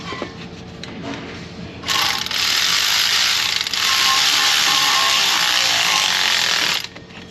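An 8mm ratchet rapidly clicks while tightening hose clamps on a Jeep Grand Cherokee 4.0 with an overheating problem, a loud, close, continuous burst of ratcheting lasting about five seconds after a quieter start, with no talking.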